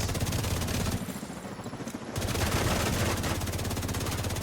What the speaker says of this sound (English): See the shot? How the shotgun works so good.